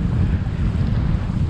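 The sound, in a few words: extreme wind blowing at kite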